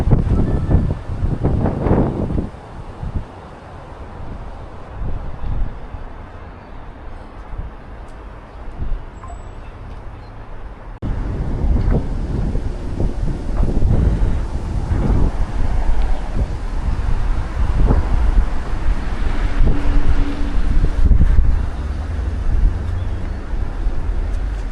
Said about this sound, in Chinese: 今天苏州在刮大风啊